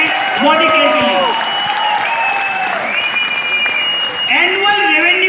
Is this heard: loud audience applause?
yes